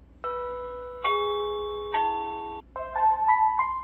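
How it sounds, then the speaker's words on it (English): Chime of an EZVIZ CP4 wire-free peephole doorbell: three clear, sustained ringing tones spaced about a second apart, each fading slowly, then a quicker, brighter sequence of notes, loud and close. "there should be different doorbells that you can select"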